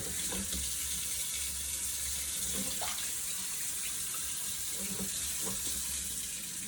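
Kitchen tap running into a sink while carrots are rinsed, a steady faint stream of water with small splashes and hand movements, no voices.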